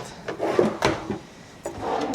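A cabinet door inside a fifth wheel RV opens and shuts, producing a few soft, close wooden knocks and rubbing clicks in a quiet room.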